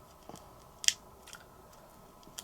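Scissors cut card-making embellishments in a few brief, quiet snips, with one sharper cut standing out against a near-silent room.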